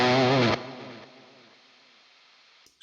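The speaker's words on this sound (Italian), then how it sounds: "Sentite che aumenta come nel mondo reale il fruscio." Overdrive pedal model on a Quad Cortex, a replica of a clone: a sustained distorted guitar note cuts off sharply, leaving a faint, steady hiss that slowly fades, with a brief noise burst at the end.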